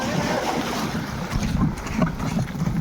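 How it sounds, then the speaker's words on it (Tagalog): Strong wind roars steadily against the microphone on a fishing boat, with a low rumbling buffet and gusts swelling throughout, alongside faint water and boat noise. "Lakas ng hangin niya."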